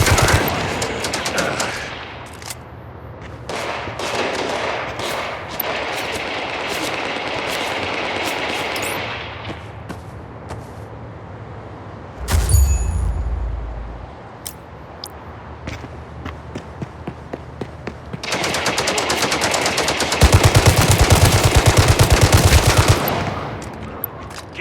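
Sustained automatic gunfire barrages in the mobile shooter Gangstar Mirage City, loud and dense, with a sharp blast near the middle, a stretch of scattered single shots, and a heavy renewed burst near the end.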